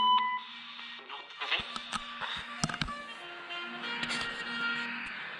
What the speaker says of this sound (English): Sorry, that was my alarm going off.